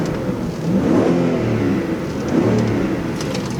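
A 2002 Audi S6 Avant V8 in neutral revs twice, each rise swelling and falling back to a steady idle, close and fairly loud with no talking.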